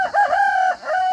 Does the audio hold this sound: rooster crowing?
yes